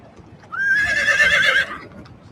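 A horse neighs in a loud, clear whinny lasting about a second, rising then wavering with harmonics, over faint background noise, in a soundtrack added to an old silent street film.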